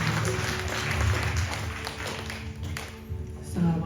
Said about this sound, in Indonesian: Tepuk tangan buat Tuhan kita ya.